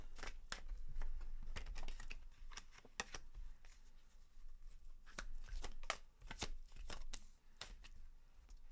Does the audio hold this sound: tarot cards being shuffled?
yes